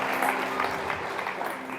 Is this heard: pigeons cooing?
no